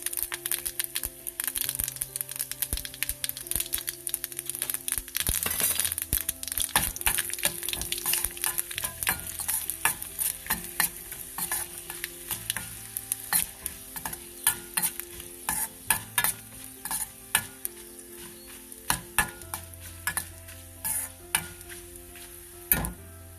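Mustard seeds, cumin, hing and chilies crackle and sizzle in a hot tempering, with rapid popping bursts and steady stirring scrapes, close up and continuous, thinning toward the end.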